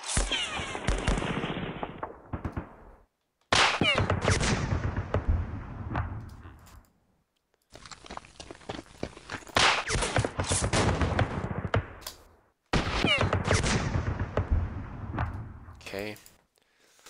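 Rapid gunfire fills a Rising Sun wargame battle, with dense bursts and sharp cracks running in four long blocks split by brief silences, loud and close.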